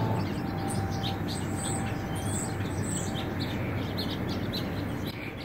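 Birds chirp and tweet continuously in the background, a busy outdoor chorus of high calls over a steady low ambient rumble, with no talking.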